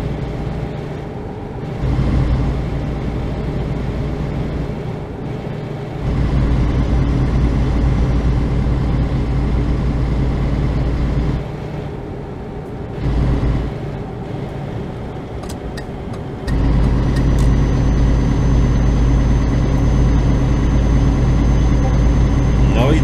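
Truck engine in Euro Truck Simulator 2 drones low and steady as the vehicle gathers speed, dropping out briefly a few times, with someone talking over it.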